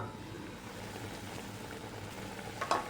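Chicken liver sizzles in a pan over a medium-high flame, a soft continuous frying hiss with light bubbling and a brief sharper crackle near the end, fairly quiet and close.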